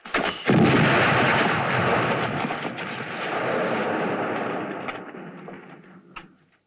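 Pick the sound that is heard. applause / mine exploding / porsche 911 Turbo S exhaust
mine exploding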